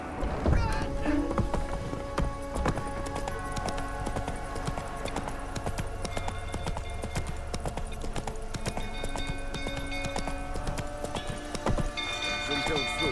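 Roach the horse's hooves clip-clop at a steady trot in The Witcher 3, a continuous close rhythmic clatter mixed with game ambience and voices talking over it.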